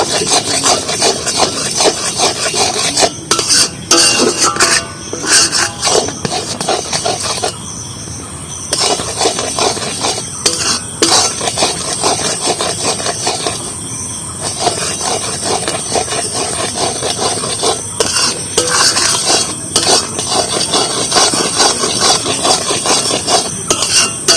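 A spoon works steadily through jaggery and puffed rice in a pan, giving off a loud, continuous rasping scrape with brief pauses between the strokes.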